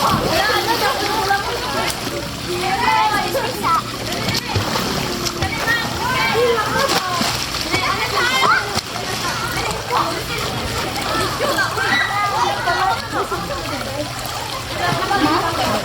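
School students splashing and playing in a resort swimming pool in Bilar during summer, with continuous sloshing and splatter close by and lively children's voices shouting and chattering throughout.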